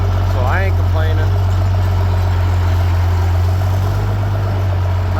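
Farmall 856 loader tractor idling with a steady low engine drone, close and loud, while short bursts of voice pass over it.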